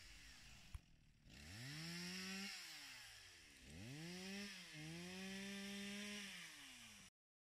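A chainsaw roars close by, rising and falling in pitch in several pulls as it bites into trees during pond maintenance, then stops abruptly.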